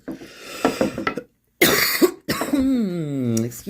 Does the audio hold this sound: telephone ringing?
no